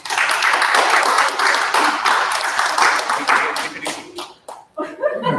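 Audience applause at a spring student union annual general meeting welcoming the president, a dense steady clapping from a crowd that thins into scattered claps near the end.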